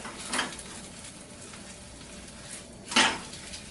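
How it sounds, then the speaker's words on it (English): A crepe in a sizzling pan is lifted and turned with two rubber spatulas, giving two brief scraping clatters over a quiet, continuous frying hiss. "very carefully I'm going to lift it up and turn it around"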